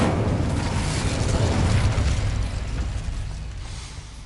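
A fiery Incendio spell cast in Hogwarts Legacy bursts out as a loud, dense rush with a heavy low rumble, fading gradually over a few seconds.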